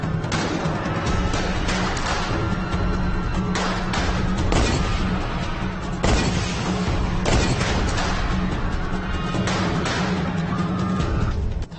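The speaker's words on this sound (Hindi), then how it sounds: "दोनों ओर से गोलियों की बौछार शुरू हो गई।" Dense, continuous volleys of gunfire with booming blasts run throughout, loud and close, as an exchange of rifle fire in a dramatized bandit story.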